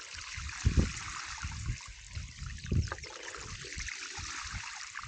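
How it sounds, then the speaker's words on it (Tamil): Water poured onto soil around a sapling gurgles and splashes steadily, with a few heavier low thumps as it pours and soaks in, close by and fairly quiet. "நான் இந்த 10 லிட்டரும் உனக்கே ஊற்றிடுறேன்"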